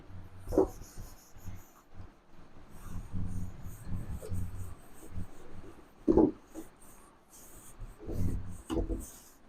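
Scrubbing strokes of a board eraser wiping off chalk writing in a chemistry lecture classroom, several rough bursts at irregular intervals, close and moderately loud, with soft breathing and faint background murmurs.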